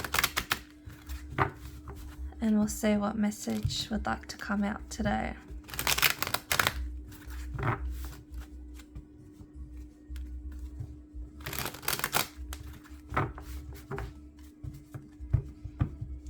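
Tarot cards riffle and slap together in several short bursts, close up, while someone talks softly and a steady hum runs underneath.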